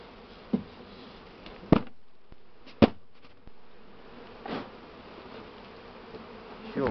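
Honey bees buzz softly around a swarm box, punctuated by a few sharp knocks and thumps of wood nearby.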